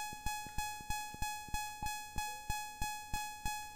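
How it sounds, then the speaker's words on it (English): A self-destruct alarm in the video game Legacy of the Ancients beeps in a fast, steady pulse, each sharp electronic tone repeating roughly every third of a second, fairly faint and alone. "And the alarm just keeps getting a higher pitch."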